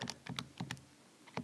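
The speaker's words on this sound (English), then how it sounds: "this is a matter of just typing this in on your calculator." Quick clicking presses on calculator buttons, about eight taps in an uneven rhythm, close and fairly quiet with nothing else audible.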